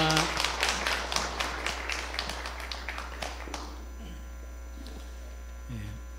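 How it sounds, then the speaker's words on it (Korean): A church congregation applauds to glorify God during a worship service, a burst of many hands clapping that fades over a few seconds, with a steady electrical hum underneath. "우리 하나님께 영광의 박수 하겠습니다."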